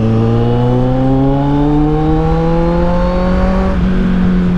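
A Kawasaki Z800 motorcycle fitted with an Akrapovic exhaust accelerating hard, its loud, close engine note climbing steadily in pitch through the gear before a brief dip at a shift, with no talking.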